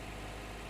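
A water pump runs in Resident Evil 1 HD, giving a steady, loud mechanical hum that fills the short moment without a break.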